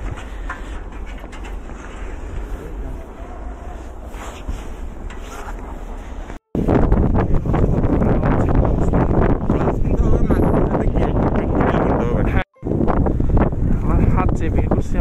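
Strong, freezing wind outdoors at minus 18 degrees roars and buffets the microphone in loud, continuous gusts, broken by two brief dropouts, with a voice speaking at times beneath it.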